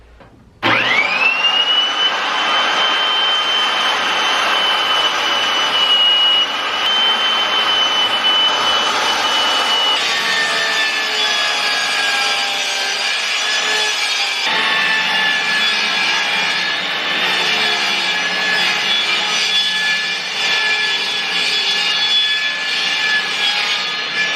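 A power saw at a hardware store cuts wooden boards, running as a loud continuous whine close by that holds steady for over twenty seconds, with the pitch shifting slightly as the blade works through the wood.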